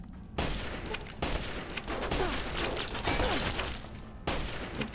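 Gunfire in the Fallout game mod A Tale of Two Wastelands, Old World Blues: several sharp shot bursts spaced over a few seconds, loud and close with echoing tails and no voice over them.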